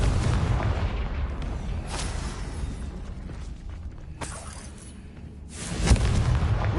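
The Confringo fire spell in Hogwarts Legacy goes off as a deep, rumbling boom, followed by a few sharp bursts and crackles in a low, continuous blast texture.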